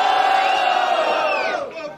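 A crowd cheers and shouts at a Brazilian freestyle rap battle, a loud sustained roar of voices with whoops that fades over a couple of seconds.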